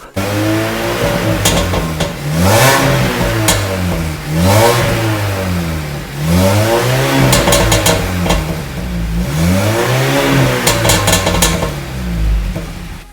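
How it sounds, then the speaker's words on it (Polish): An Audi A4 B7 engine revs repeatedly, climbing and falling in pitch in several loud bursts, with a steady idle rumble between the revs. "Posłuchajcie dźwięku silnika"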